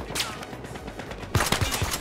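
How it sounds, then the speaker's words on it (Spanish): Enemy gunfire in Battlefield Hardline: a brief spray of shots, sparse at first and then a denser, louder volley in the second half. "¿Dónde me está disparando el enemigo ese?"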